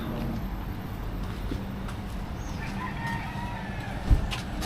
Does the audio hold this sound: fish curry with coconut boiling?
no